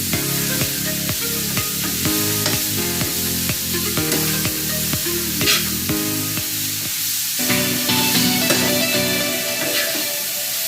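Beetroot and carrot curry with turmeric powder is stirred in a pan, with a loud sizzling hiss under rhythmic regular scraping strokes of the spoon, continuous throughout.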